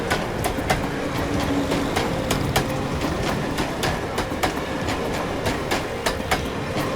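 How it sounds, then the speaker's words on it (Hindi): A train passes while the listener is on a bridge, with a steady loud rumble and regular clickety-clack wheel beats repeating throughout, close by and with no talking. "मैंने ट्रेन की आवाज सुनी थी। देखिए, ट्रेन की आवाज।"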